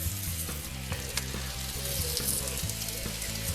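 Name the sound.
pre-made Lidl rosti sizzling on BBQ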